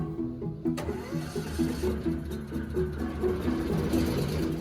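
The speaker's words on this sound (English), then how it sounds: "Let the engine run 15 to 20 seconds at slow speed before setting it to full throttle." A TGMI straw blower's small gas engine starts and settles into a steady, close, moderately loud running chug with a regular pulsing rhythm, no talking.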